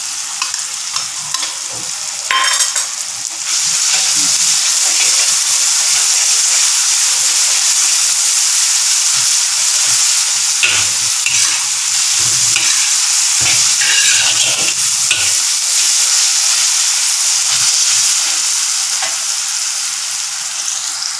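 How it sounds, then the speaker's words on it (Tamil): Ginger and garlic fry hard in a pan for mutton varuval, a loud, dense sizzle and hiss that swells after a brief quieter start and stays constant, with stirring scrapes mixed in. "இப்போ நான் இஞ்சி பூண்டு போடுறேன்."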